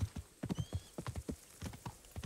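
Hooves clip-clop in a steady riding rhythm as a horse travels along in the medieval video game Kingdom Come Deliverance, moderately loud and close, with no talk over it.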